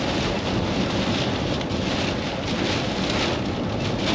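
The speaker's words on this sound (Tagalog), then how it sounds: "Ito ang tindi, lakas ng hangin." Strong storm wind with heavy rain batters a moving truck, a dense, loud, unbroken roar of buffeting and downpour throughout with no talking.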